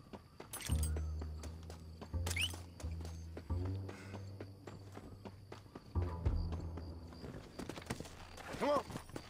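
A horse's hooves clip-clop in the video game Red Dead Redemption, irregular thudding steps close by, mixed with other game sounds and occasional voice-like noises.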